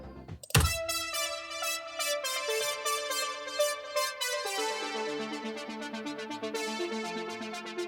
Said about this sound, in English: I've added in another octave into the main synth.